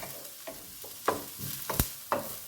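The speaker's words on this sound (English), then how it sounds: "So let's keep browning those onions." Onions browning in a pan sizzle quietly under intermittent spatula scrapes and taps, about half a dozen short strokes spread unevenly, close and fairly soft.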